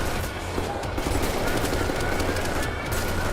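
Gunfire in Wolfenstein: The New Order, sustained automatic bursts and overlapping shots forming a dense, loud, continuous barrage.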